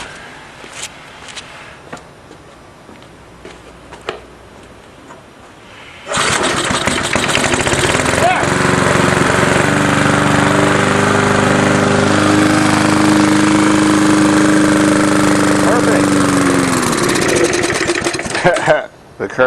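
An old points-style Briggs & Stratton lawn mower engine is started with one pull after a few quiet handling sounds, then runs loud and close with a steady buzzing drone before it is shut off near the end.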